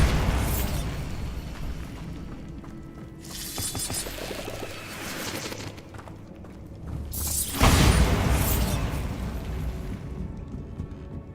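A Bombarda spell detonates in the Hogwarts Legacy video game with a loud, rumbling explosive burst partway through, set among mechanical clanks, crunching debris and ongoing game ambience.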